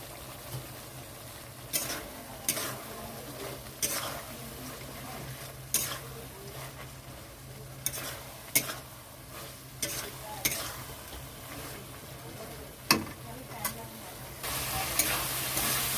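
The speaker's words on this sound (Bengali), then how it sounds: "মশলাটা ভালো করে কষিয়ে নিতে হবে। এখানে দিয়ে দিচ্ছি পেপুল ডাঁটা" Spice masala with pepul stalks stir-fries in a pan, a low continuous sizzle broken by sharp, intermittent scrapes and knocks of a spoon against the pan every second or two.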